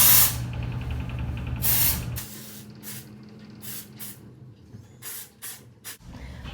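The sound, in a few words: dry shampoo aerosol spray on hair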